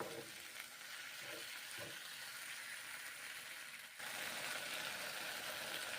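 Maggi instant noodles cook in a pan with a steady, fairly quiet sizzle and hiss throughout, a few soft knocks early on and a slight jump in the frying noise partway through.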